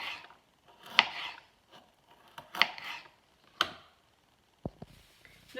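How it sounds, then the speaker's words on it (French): A knife cuts eggplant and carrots into julienne strips on a board: a few separate, crisp chopping strokes spaced about a second apart, then a couple of sharper taps at the end, close and fairly quiet, with no talk. "une fois que vous avez taillé en julienne votre aubergine et vos carottes"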